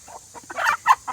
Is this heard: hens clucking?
yes